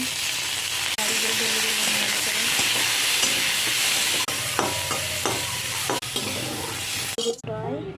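Prawns and green chillies fry in a pan with a loud, continuous sizzle, broken by occasional spatula knocks and scrapes, before the frying sound drops away abruptly near the end.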